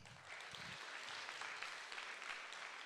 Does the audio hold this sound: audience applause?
yes